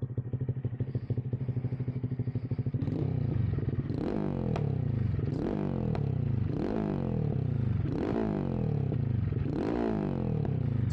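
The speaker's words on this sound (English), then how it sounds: "A lot of fun to be able to make this thing backfire." Honda Grom motorcycle engine running with modified exhaust: steady idle rumble, then repeated rev-and-decel cycles, each ending in bursts of popping backfire crackle, loud and close with no talk.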